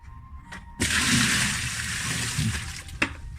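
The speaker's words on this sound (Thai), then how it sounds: "เดี๋ยวลองน้ำเยอะๆดีกว่า" Heavy water gushes into a sink drain for several seconds, a loud sustained rush that starts abruptly, with a broken drain knob fitting under repair, ending with a brief clunk.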